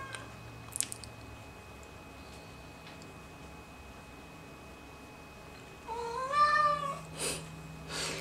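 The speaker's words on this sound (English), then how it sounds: "It's my cat." A pet cat lets out a drawn-out, wavering meow near the end, close and fairly clear above a quiet indoor room, after a long stretch of near silence.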